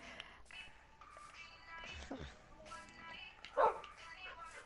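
A dog attacks in Minecraft with faint, quick yips and barks, including one sharper, louder bark near the end, while people talk quietly over it.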